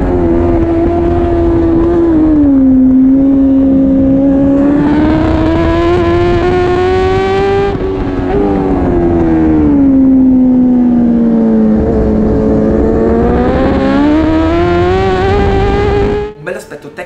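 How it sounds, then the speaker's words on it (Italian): BMW HP4 racing motorcycles at the Imola circuit, with a loud, sustained engine roar that rises and falls through gear changes and revs over about seventeen seconds, close and continuous under commentary. "quello di Andreozzi e di Lamarra, riescono a prendere un bel po' di vantaggio in uscita dalle S"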